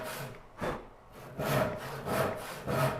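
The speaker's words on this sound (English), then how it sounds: "You really just want to guide the saw in its tracks." Hand saw cutting through cherry wood in steady back-and-forth strokes, a rhythmic rasp repeating about every half second, close and clear with no talking.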